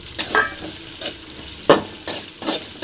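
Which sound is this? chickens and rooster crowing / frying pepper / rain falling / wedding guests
frying pepper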